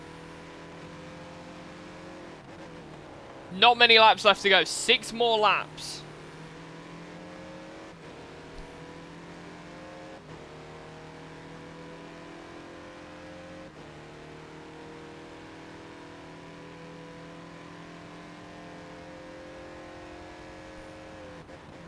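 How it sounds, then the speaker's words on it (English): A Mazda race car engine in the Forza racing game at Road America, a low, steady engine drone throughout with a short loud burst early on, under a commentator's voice. "The Mazda does sound very odd, though. It's a very low engine noise"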